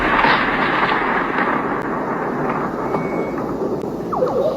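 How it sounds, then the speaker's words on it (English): Strange thunder in Florida rolls as a continuous, loud rumbling roar with a broad hiss that holds steady for several seconds, with a few faint clicks and a brief rising tone near the end. "Listen to this strange thunder."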